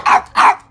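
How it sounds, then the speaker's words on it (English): A dog barks twice in quick succession, close and loud, with a short pause between the barks. "barked Wiggles"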